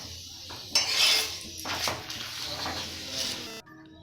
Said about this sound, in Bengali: এই যে গ্যাস চুলা অন করে তাওয়া দিয়ে দিয়েছি।